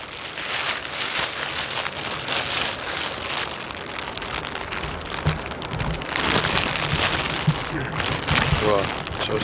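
Light drizzle pattering steadily outdoors at Amsterdam airport, a dense continuous hiss of raindrops on surfaces with wind, loud and close throughout, a voice faintly present underneath.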